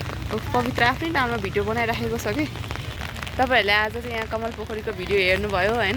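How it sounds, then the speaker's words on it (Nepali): Rain falls steadily at Kamal Pokhari pond in Kathmandu during the rainy season, a continuous hiss beneath someone talking throughout. "अनि पानी परिरहेछ यसरी रेनी सिजनमा"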